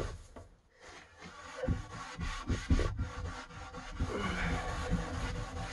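Repeated scrubbing strokes rasp along the grain of a wooden loudspeaker cabinet, an uneven rhythmic rubbing up close with no talking.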